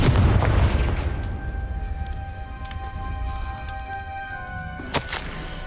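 A magical blasting spell goes off in the Hogwarts Legacy video game, a loud booming explosion that rolls into a long crackling, rumbling tail of debris, with a sharp burst near the end.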